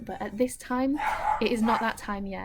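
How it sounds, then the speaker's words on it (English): A dog barks off in the distance, faint and intermittent beneath someone speaking steadily throughout. "That's just a dog woofing around somewhere."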